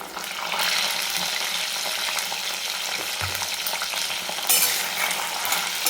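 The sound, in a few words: brinjal sautéing in a pan on full flame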